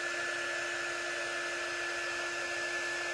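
Hair dryer blowing hot air to dry paint on a craft project, a steady, unbroken whine and rush of air with a constant tone, close and moderately loud, with no talking.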